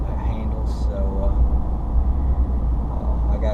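A farm truck drives along heading out to haul hay, with a steady, loud engine rumble and road noise from inside the cab that continues without a break.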